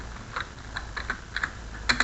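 Computer keyboard keys pressed while Shift is held during spreadsheet cell selection, a handful of light, separate clicks spaced irregularly over a soft background hum, with a slightly louder cluster near the end.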